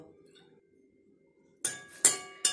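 Boiled eggs and potatoes being lifted into a container to cool in water: after a quiet stretch, three sharp clinks of utensil against dish ring out near the end.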